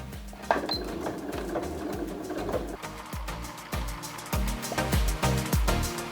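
A sewing machine runs steadily for several seconds, stitching two small seams along a marked line on fabric for a Mother's Day absorbent and medicine holder, with a rhythmic mechanical whir and needle clatter close by and no talk.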